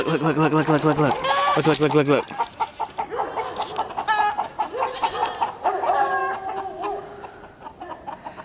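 Rooster clucking and squawking in bursts, close by, mixed with other fowl calls and farmyard noise.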